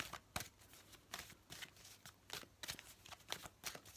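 Tarot cards being shuffled by hand during a card reading, a rapid series of soft papery riffles and flicks, close and fairly quiet, with no talking.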